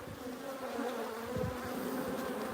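Honey bees swarm and buzz steadily around an opened hive during a brood frame inspection, a dense, continuous hum that stays close and even throughout.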